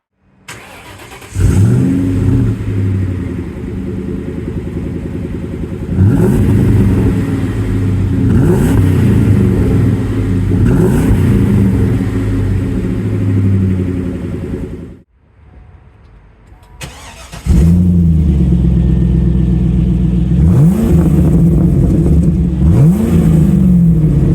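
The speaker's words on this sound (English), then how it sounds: "Now, I mentioned that exhaust. Let's take a listen to both of these vehicles." Two 2000s muscle cars, a Mustang SVT Cobra and a Camaro SS SLP, rumble loudly at close range with deep exhaust, repeated rev blips rising and falling, a brief quiet gap, then more strong revving.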